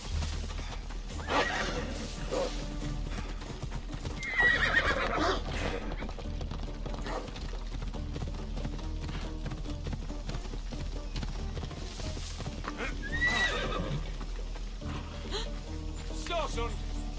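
A horse in the video game Assassin's Creed Odyssey whinnies twice over continuous game ambience with steady hoofbeats, the neighs standing out clearly at moderate volume.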